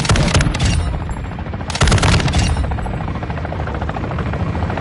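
A helicopter in the Warzone video game thumps loudly close by, its rotor drone mixed with bursts of rapid gunfire.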